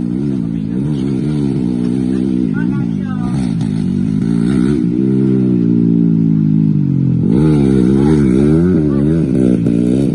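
Dirt-bike engine on a dirt circuit, loud and close, with a rising and falling rev and a blip of throttle around seven seconds; people talk over the steady engine drone throughout.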